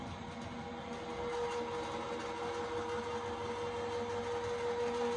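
A card-embossing machine being hand-cranked with a card pressed through it, a steady mechanical grinding rumble that runs evenly throughout, close-up and moderately loud.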